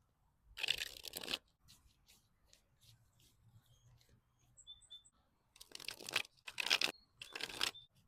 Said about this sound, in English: Let's shuffle your deck and see when you will meet your future spouse.